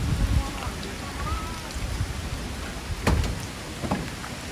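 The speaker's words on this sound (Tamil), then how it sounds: "மழை மழை வருது. It's getting raining guys." Rain beginning to fall outdoors in Goa, a soft steady hiss with scattered drop patters and a few sharper taps, people talking faintly over it.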